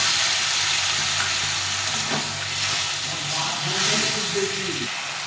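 Spice paste with a little added water sizzles in a pan, giving a continuous frying hiss with occasional stirring scrapes and a faint low hum underneath.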